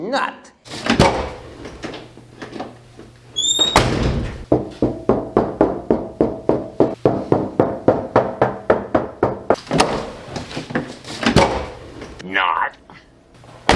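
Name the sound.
car door opening and closing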